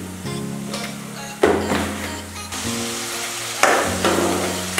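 Chopped onions with turmeric fry in hot oil for a pumpkin chicken curry, giving a close, steady sizzle broken by several bursts of stirring and scraping against the pan.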